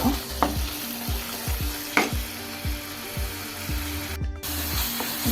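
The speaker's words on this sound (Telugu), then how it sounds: "ఇవి కొంచెం పచ్చివాసన పోయే వరకు వేగాలండి." Chilli chicken ingredients frying in a pan while a spatula stirs, a steady sizzle punctuated by rhythmic scraping strokes roughly every half second, close and fairly loud; no talking.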